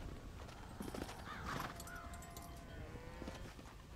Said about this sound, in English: Hit your horse and wait for me by the stable